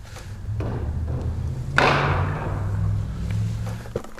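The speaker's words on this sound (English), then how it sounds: "I'm sure it's someone just slamming lumber into their trailer though." One loud, sharp slam of heavy wood hitting a metal trailer rings out over a low, steady background hum.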